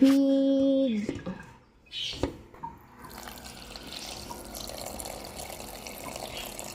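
Water pouring into a cooking pot at an outdoor kitchen, a brief splashing pour followed by quieter trickling and faint background sounds.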